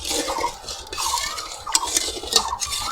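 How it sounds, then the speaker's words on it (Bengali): Metal spoon stirring sugar into water in a bowl, scraping in quick repeated strokes with light clinks against the sides, close and clear with no talking. "চিনিটা জলের সঙ্গে খুব ভালো করে কিন্তু গুলিয়ে নিতে হবে"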